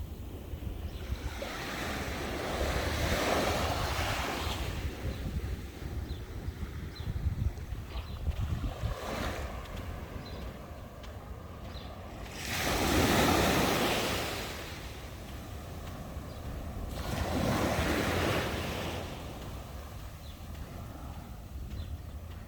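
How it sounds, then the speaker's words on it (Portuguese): Waves wash onto the beach at Porto Belo, Santa Catarina, at sunset, with slow swells of surf rising and falling every few seconds over a steady wind-blown roar and no talk. "Mostrando aqui um pôr do sol, finalzinho de tarde aqui na praia de Porto Belo,"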